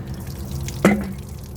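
A single drip of water lands from a water container kept in a van, a soft, close plop over quiet background hum.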